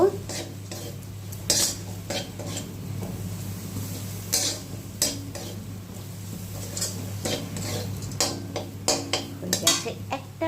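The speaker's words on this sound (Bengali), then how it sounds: "এর মধ্যে দিয়ে মিশিয়ে নেব" Repeated clattering scrapes of a spoon stirring eggplant in a frying pan over a low sizzle, irregular strokes growing busier toward the end.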